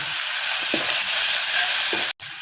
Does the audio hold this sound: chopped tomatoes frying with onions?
yes